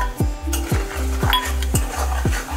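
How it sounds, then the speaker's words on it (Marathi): Red chili powder sizzles in lightly heated oil and ghee for a restaurant-style kaju masala, with a steady hiss under rhythmic spoon strokes that scrape the pan about twice a second. "तेल हलकं फुलकं गरम झाल्यानंतर आपल्याला लाल तिखट टाकायचं आहे।"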